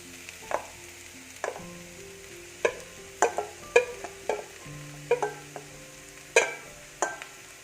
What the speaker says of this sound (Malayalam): ഇനി ഇതിലേക്ക് നമ്മൾ ഉടച്ചു വെച്ചിരിക്കുന്ന ഉരുളക്കിഴങ്ങ് ഇട്ട് കൊടുക്കാം